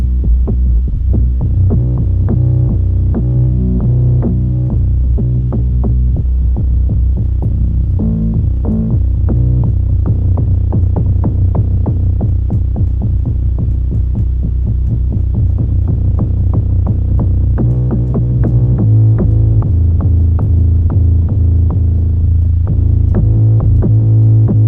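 A deep 808 bass, built from Logic Pro X stock sounds and plugins, throbs and rolls in a steady repeating rhythm, loud and booming low with a sustained humming tail between hits.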